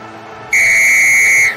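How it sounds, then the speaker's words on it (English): A single sharp, shrill whistle blast signaling the start of a race, steady and loud for about a second, then cut off. "Oh, the whistle is blown."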